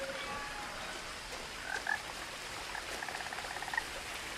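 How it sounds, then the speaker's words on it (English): A frog croaks in the video game What Remains of Edith Finch, with short, faint calls repeating over a steady ambient bed and a quick run of croaks near the end. "I can hear a frog."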